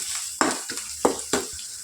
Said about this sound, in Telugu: ఇప్పుడు ఒక 2 మినిట్స్ వరకు ఫ్రై చేసుకోవాలి వీటిని